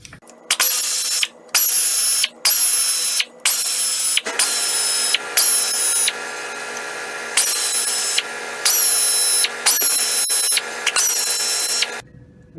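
A power tool spins off the head bolts of a Gravely tractor engine in a series of loud, close whirring bursts, each a second or two long, with short gaps as it moves from bolt to bolt.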